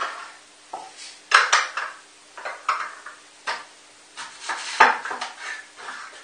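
Onions cut into quarters on a board in a home kitchen, giving a handful of close, irregular knife knocks and taps separated by short pauses.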